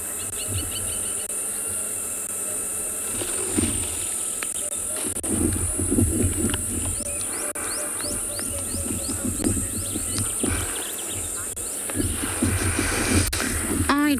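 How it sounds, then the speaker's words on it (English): Birds call and chirp in the background of an evening safari at Tswalu in the Kalahari, over a constant high insect drone, with repeated short chirps and trills at moderate distance. "You can hear all the birds in the background."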